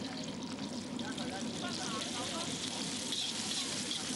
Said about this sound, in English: Some more green peppers. Fry those very lightly. Some red chilies.